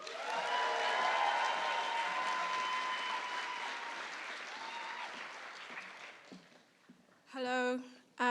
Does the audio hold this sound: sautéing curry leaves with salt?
no